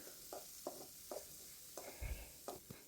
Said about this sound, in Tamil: ரெண்டு வெங்காயம் ரெண்டு பச்சை மிளகா ஒரு நாலஞ்சு பல் பூண்டை நல்லா தட்டி சேர்த்துக்கிட்டேன் இதை நல்லா வதக்கி கொடுத்துட்றேன்